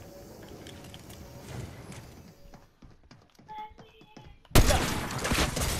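A rocket launcher fires in a video game: scattered clicks and small pops give way to a sudden, loud, sustained roaring blast near the end.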